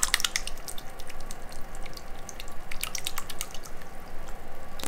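Ducks and a goose splash and wash themselves in water at a homestead, producing steady close dripping and sloshing with scattered small splashes throughout.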